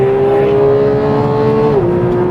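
A Porsche 911 GT3 engine screams loud and close at very high revs near 9000 rpm, holding a sustained high-pitched wail before the pitch dips slightly as revs settle.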